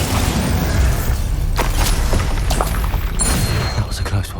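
Spell explosions in Hogwarts Legacy burst and boom repeatedly in dense combat, loud thumps and pops layered over constant game noise and music.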